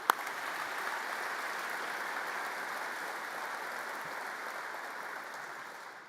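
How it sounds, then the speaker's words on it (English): Audience applause at the Reagan National Defense Forum in the Air Force One Pavilion, a sustained, even wash of many hands from a large crowd that holds steady for several seconds and slowly tapers at the end. "let's give the Joint Chiefs and the combatant commanders a round of applause."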